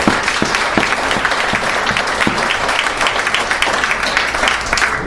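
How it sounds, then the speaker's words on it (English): A crowd applauds for Tanya Mayer in one loud, dense burst of clapping that holds steady throughout, with sharper individual claps standing out near the front. "Can we have a round of applause for Tanya Mayer again?"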